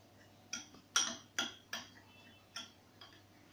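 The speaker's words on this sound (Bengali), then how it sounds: "এবার আমি এই ডিমটাকে 1/2 চামচ নুন দিয়ে ভালো করে ফেটাবো" An egg whisked with half a spoon of salt in a bowl for soup noodles gives a few sharp, close clinks of utensil against the bowl, spaced irregularly over a quiet kitchen hum.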